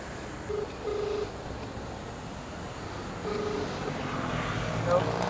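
A phone call being dialed to a FoodPanda customer: a few short, clear keypad tones over a steady rumble of traffic and engine noise, with a voice briefly present.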